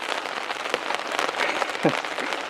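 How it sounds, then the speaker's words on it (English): Steady rain patters densely on a taut tarp close overhead, a continuous crackling hiss with occasional heavier drops. "it started raining again"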